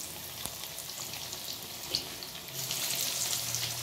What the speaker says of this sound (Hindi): इसी तरह हम अपने सारे पीसेस जो हैं वो हल्की आंच पे फ्राई करेंगे।